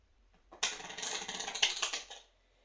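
Playing cards are shuffled for a card trick, a quick burst of crisp riffling and flicking clicks lasting under two seconds, close up with no talking.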